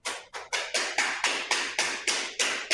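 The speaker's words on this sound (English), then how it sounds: "You just want to keep knocking until you get a nice tight joint." Vinyl flooring planks are knocked into place with about ten evenly spaced, sharp taps, each a crisp close impact with a short decay, in a steady rhythm.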